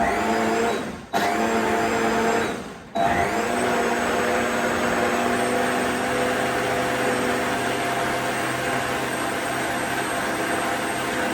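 A blender mixes a green chocolate smoothie with loud continuous motor whirring, cutting out briefly twice near the start before running steadily at full speed.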